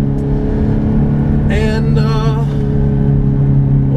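A 2006 Ferrari F430 with a mid-mounted 4.3-liter V8 of about 500 horsepower and a manual gearbox revs hard, a loud rising engine note climbing through two bursts over a steady drone, with one brief spoken word.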